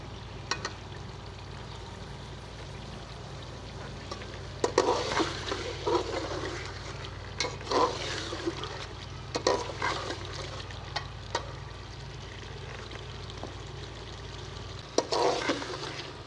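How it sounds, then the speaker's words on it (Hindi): Beef korma masala frying in oil while a spoon stirs it, with a steady low sizzle broken by repeated scraping, clattering strokes against the pan. "इस तरीके से चमचा हिलाता रहूँगा ताकि नीचे से लग ना जाए"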